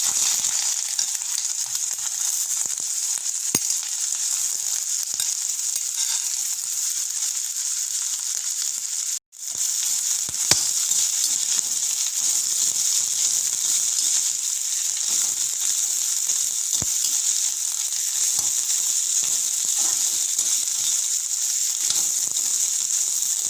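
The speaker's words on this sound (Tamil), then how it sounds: "ரொம்ப ஹை ஃப்ளேமில் வச்சு இஞ்சியை வதக்கிக்கலாம்" Ginger sautéing in hot oil over a very high flame, a steady, continuous sizzle and fry that runs throughout with one brief interruption midway, no talking.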